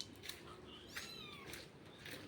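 A rain-soaked kitten meowing softly and fairly close, with a few short high cries in a row and faint background noise between them.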